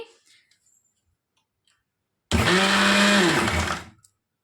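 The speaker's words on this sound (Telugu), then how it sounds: "ఇప్పుడు రొయ్య పొట్టును వేసి ఊరికే జస్ట్ అలా తిప్పాలంటే తిప్పాలండి మిక్సీ అంతే." A mixer grinder blends dried prawn peel chutney in one loud, close burst of about two seconds that stops abruptly, preceded by faint handling sounds and near silence.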